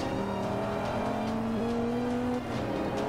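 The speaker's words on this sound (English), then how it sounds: "Hear that engine roar." A 2013 Dodge Viper in the Forza 5 racing game, with a steady engine drone holding pitch and then stepping up through a gear change, a continuous loud roar with no talking.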